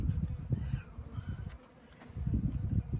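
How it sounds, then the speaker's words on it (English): Honey bees buzz densely during a hive installation as a package of bees is poured over the queen, a close, wavering swarm hum rising and dipping with a brief lull in the middle. "we will be pouring the bees right over the queen"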